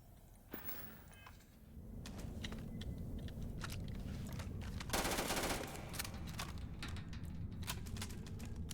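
A new rifle firing in Starfield, a rapid series of sharp shots over a steady low combat rumble, with a denser burst of fire near the middle, fairly quiet overall.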